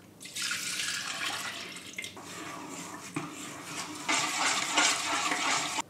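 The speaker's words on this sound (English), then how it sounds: "Let's add some soy milk." Soy milk pours into a bowl of batter with peanut butter and applesauce, a close, liquid splashing stream that swells and eases over several seconds, with faint clinks of a utensil against the bowl.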